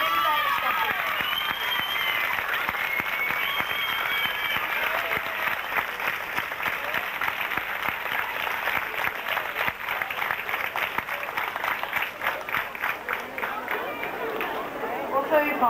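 An audience at a dance competition prize-giving claps steadily and loudly for the six ballroom and Latin dance prize winners, a dense sustained round of applause with crowd murmur underneath.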